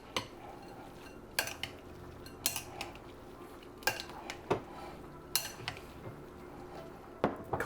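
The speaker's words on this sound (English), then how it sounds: "come back, sprinkle a bit more in, give it another toss." Pasta carbonara with pancetta is tossed in a pan, giving sporadic sharp clinks and clatters of utensils against cookware at a moderate distance, separated by quieter stretches.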